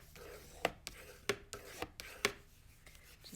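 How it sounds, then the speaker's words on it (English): A bone folder is rubbed hard across paper on a craft card, giving quiet scraping strokes with several sharper taps in an irregular rhythm, close and faint. "you burnish as hard as you can using the midpoint of the bone folder"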